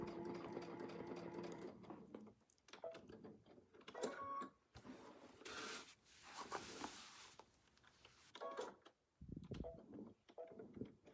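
A sewing machine runs in short stitching bursts with pauses between, its close mechanical whir and ticking clatter mixed with small handling sounds in a quiet room.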